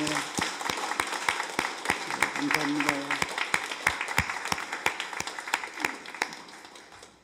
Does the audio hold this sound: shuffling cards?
no